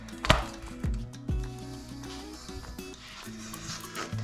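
The sides of an 8-inch springform tin are set onto its base, giving a sharp metallic clack followed by two softer knocks. No one speaks, and background music plays throughout.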